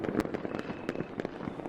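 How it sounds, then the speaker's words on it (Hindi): Firecrackers burst in the night sky over a village during Diwali, cartoon-style effects: a rapid series of sharp pops and crackles at moderate loudness, with no speech. "आसमान में पटाखों की आवाज गूंज रही थी।"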